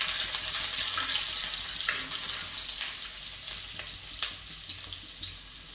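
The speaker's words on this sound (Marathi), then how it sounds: "तर लसूण छान असं लालसर परतून घ्यायचं।" Finely chopped garlic fries in a pan of hot oil with cumin for dhaba-style lasooni methi, a loud, steady crackling sizzle that continues throughout, with a few light stirring scrapes.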